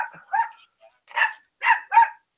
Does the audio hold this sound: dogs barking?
yes